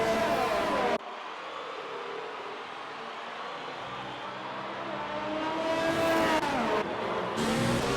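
Race cars roar through a lap of the Abu Dhabi Grand Prix in an Xbox racing game, engines droning loudly and continuously with rising revs, shifting pitch and brief tire noise, with no talk over them.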